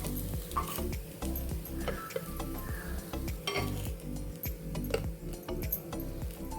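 Sabudana appe being lifted out of a hot appe pan, with close metallic scrapes and light clinks of a utensil against the pan over a steady low hum.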